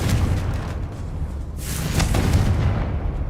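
A Confringo fire spell from the video game Hogwarts Legacy blasts with a deep, rumbling boom that swells around the midpoint and rolls on in low, sustained crackling thunder, loud and close.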